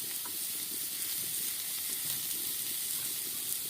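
Chopped man kochu (giant taro) frying in a pan gives a steady, fairly quiet hiss and sizzle that holds even throughout with no voices.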